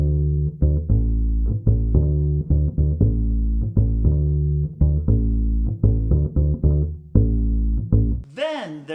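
Bossa nova bass line played with a quarter note followed by two eighth notes, a deep, repeating plucked pattern with a steady lilting rhythm, loud and close, then a short voice at the end.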